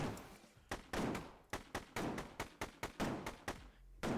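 Rapid bursts of AK rifle fire from a video game, a string of about a dozen sharp, loud shots in uneven clusters with brief gaps between them, close up and with no talking.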